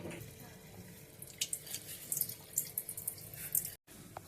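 Water pours and splashes in short uneven bursts, close by, as water drains from soaked moong dal through a strainer, ending abruptly.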